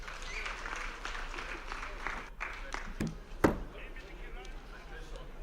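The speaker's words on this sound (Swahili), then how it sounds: "Naomba mkaribishe kwa makofi." Applause at a political meeting welcomes a speaker: a moderate, steady wash of clapping from the crowd, somewhat distant, with a sharp knock or thud partway through and voices underneath.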